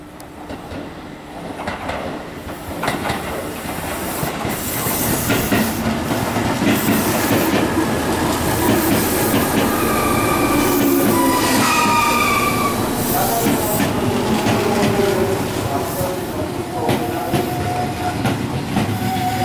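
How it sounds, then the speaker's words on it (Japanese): A six-car express train for Funabashi pulls into Unga Station in Japan, rumbling and clattering loudly nearby with squealing wheels, while a faint platform announcement is heard in the background. "船橋行きが6両編成で参ります。"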